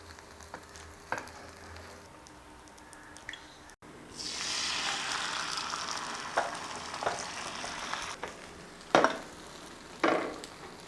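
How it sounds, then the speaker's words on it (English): A plain omelette with salt and pepper fries in a pan, a soft hiss that swells into a sustained sizzle partway through, with occasional louder spatters and faint kitchen knocks. "Just making a omelette, plain omelette"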